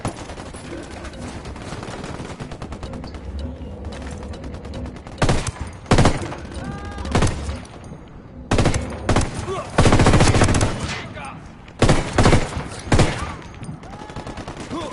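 Gunfire in the video game Operation Kingslayer, set in Bolivia: bursts of automatic fire and scattered shots crack in clusters, loud and close, over a steady background of battle noise.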